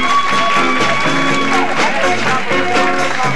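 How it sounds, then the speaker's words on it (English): Loud, dense applause and cheering from a big audience, steady throughout, with whoops and a voice carrying over the clapping. "Your hometown, a great big round of applause."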